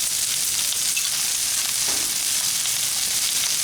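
Minced garlic sizzles on a hot Blackstone griddle beside shrimp fajitas, a loud, even, hissing fry that runs the whole time, close up and with no talk.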